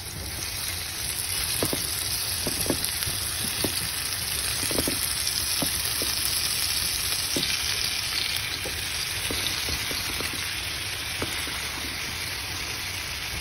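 Chicken pieces frying with garlic in a pan for chicken bistek, a constant bright sizzle with scattered pops and crackles, close and steady with no talk.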